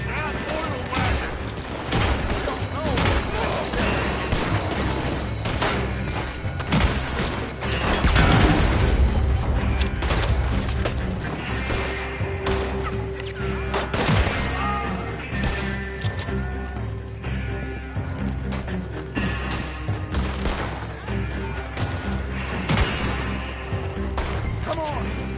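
Heavy gunfire rattles through a chaotic Old West shootout in Red Dead Redemption 2, rapid shots and booms overlapping continuously for the whole stretch, with shouting voices mixed in.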